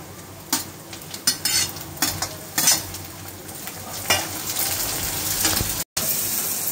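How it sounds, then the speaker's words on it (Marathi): Onion and tomato frying in a pan for dry chicken, with a steady close sizzle broken by repeated sharp spatula scrapes and clanks against the pan, no voices. "टोमॅटो आपल्याला चांगला सॉफ्ट होईपर्यंत आपल्याला भाजून घ्यायचा आहे"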